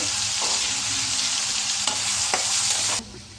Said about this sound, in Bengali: এই যে পেঁয়াজ দিয়ে দিলাম। এবার আমি পেঁয়াজটা একটু হালকা বাদামি কালার করব।